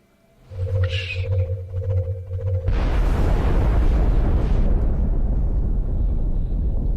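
A rocket detonates in the turn-based strategy game X-Com Enemy Unknown, a loud broadband blast that follows a low humming launch tone and then sustains as a dense, roaring rumble for several seconds.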